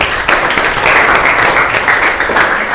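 A classroom full of students applauds together, a loud, dense burst of clapping that keeps going evenly from start to finish with no talk over it.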